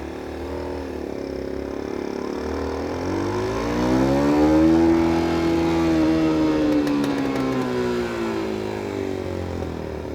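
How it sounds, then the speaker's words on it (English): Motorcycle engine recorded with the microphone placed away from the exhaust, a steady idle that rises into a smooth rev and eases back down, close and continuous with no talk. "here's just the engine by itself"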